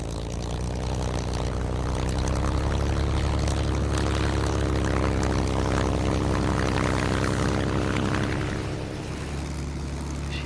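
A Supermarine Spitfire fighter flying past, its piston engine and propeller making a loud, steady, close droning roar that eases off slightly near the end.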